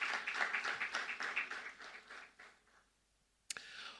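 An audience claps together at a university alumni lecture, a dense burst of applause that thins out and fades over a few seconds before a short sharp sound near the end.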